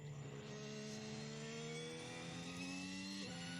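A Formula 1 car engine at 2024 pre-season testing drones with rising harmonic pitch, then drops sharply near the end as the car shifts or lifts off, distant and faint and heard alone.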